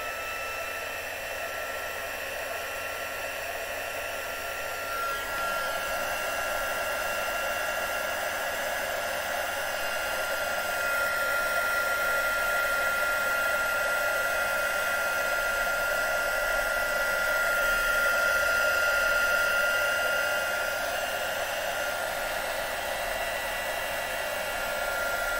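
Crafting heat tool blowing hot air onto vellum, a steady whooshing hiss like a hair dryer that runs continuously and swells slightly in the middle, with no talk.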